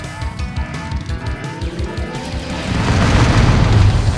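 A reactor blows up in the space shooter Descent 2 with a deep, rumbling boom that swells and holds over the final seconds, following a stretch of game music and engine hum.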